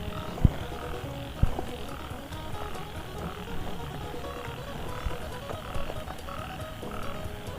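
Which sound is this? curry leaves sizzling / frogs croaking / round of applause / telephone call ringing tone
frogs croaking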